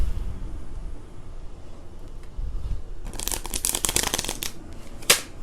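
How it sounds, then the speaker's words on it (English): A deck of cards shuffled during a tarot-style pick-a-card reading: a quiet start, then a loud burst of rapid riffling flutters followed by a sharp snap as the deck settles, with no talking. "I'm going to shuffle one more time."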